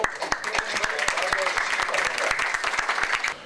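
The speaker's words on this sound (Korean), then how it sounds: "뜨거운 박수로" Audience applause at a press conference introducing a Seongnam mayoral candidate, dense steady clapping with a few sharp louder claps and voices audible underneath.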